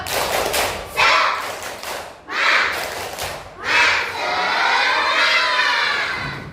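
A third-grade class of children shouts a rhythmic clapping chant in bursts, with thumping claps between phrases and a longer cheering call at the end.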